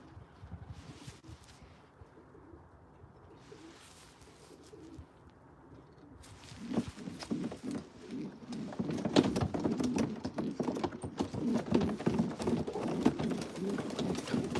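Soft coos of Janssen Vos line pigeons murmur in a loft, with fluttering and shuffling sounds picking up and growing busier in the second half.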